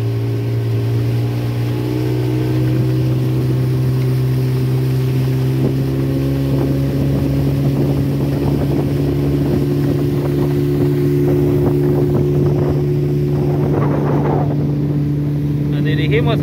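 A helm-steered motorboat (lancha) cruises through the Golfete area near Río Dulce, its engine a steady, loud droning hum throughout, with wind buffeting the microphone and faint voices at times.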